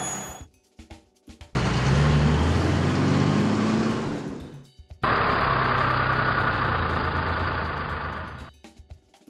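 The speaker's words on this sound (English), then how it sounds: "Coal truck." A coal truck's engine idles with a deep, steady rumble, cutting out briefly midway before starting up again just as loud and close.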